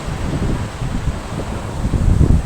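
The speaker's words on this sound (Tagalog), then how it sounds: "lakas talaga ng hangin." Strong gusty wind buffeting a microphone at an outdoor church service, a loud rumbling roar that swells and surges, strongest near the end, with no speech.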